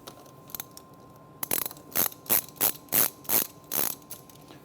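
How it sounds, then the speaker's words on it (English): Ratchet wrench loosening a hose clamp on a 2006 Mitsubishi Evolution IX turbo setup, about eight crisp ratcheting bursts in a steady rhythm, close and clear with no talking. "we're going to loosen this clamp, this one, and we have one right underneath here"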